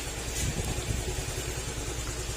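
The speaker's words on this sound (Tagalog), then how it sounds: "Ito na ngayon yung ano, Miosol. Ayan, maandar na." A Yamaha Mio Soul 125 scooter, revived after three years unused, idles with a steady low putter, close and continuous.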